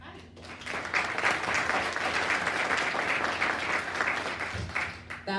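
An audience at an industry networking panel event in NYC claps in a dense, sustained round of applause for the panelists, with a voice briefly heard near the end.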